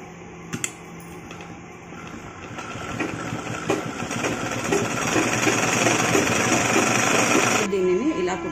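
A sewing machine stitches cloth for a pleated baby frock, a fast mechanical whirring that starts after a few light clicks and builds to a steady run, with someone talking quietly throughout.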